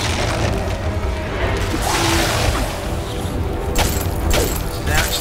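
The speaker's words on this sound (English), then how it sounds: "This is definitely a case of frost bombs." Frost bombs going off in a video game dungeon, a continuous roar of booming, crashing blasts and whooshes with sharper bursts near the end, loud and dense throughout.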